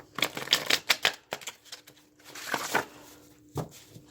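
A deck of message cards is shuffled by hand in a quick series of papery riffles and soft flutters, close and fairly quiet, with short pauses between bursts.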